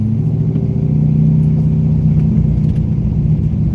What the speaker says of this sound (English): so 400 wheel horsepower Corvette